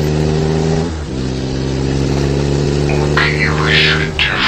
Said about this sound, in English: There's also an unidentified vehicle dragging behind us.